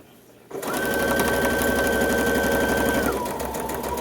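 A sewing machine starts up and runs steadily, close and loud, stitching a zipper into a vintage-style summer dress, with a whining motor tone that drops as it slows near the end.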